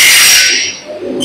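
A UPVC profile cutting machine at a door and window manufacturing unit, cutting a profile with a loud, bright grinding whine that fades over about a second before a second cut begins.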